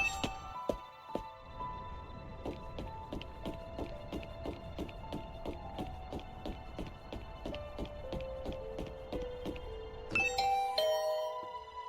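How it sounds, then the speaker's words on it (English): A rapid run of chiming ding tones repeating steadily from a video game doorbell, ending in a brighter, higher chime near the end. "I rang the doorbell and you can hear the bell ring on the other side of the door."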